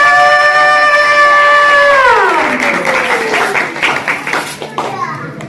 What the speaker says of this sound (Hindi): ताली बहुत कम है